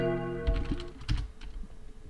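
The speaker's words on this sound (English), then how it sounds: "Typing in the password," Keys on a computer keyboard clatter in a quick, uneven burst as a password is typed, close and fairly loud over a steady tonal hum in the background.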